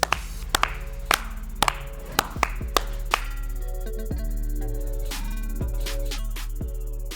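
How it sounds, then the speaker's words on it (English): A handful of people clap their hands at the close of a Monday Night Football recap show. The claps come as sharp, scattered bursts over the first three seconds, then a few fainter ones trail off under steady background hum. "Clap it up. Clap it up."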